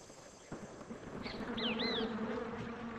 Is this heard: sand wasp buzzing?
yes